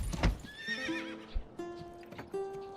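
A horse in the medieval strategy game Manor Lords whinnies twice with long, wavering neighs, mixed with a few hoof clip-clops and thumps, close and clear.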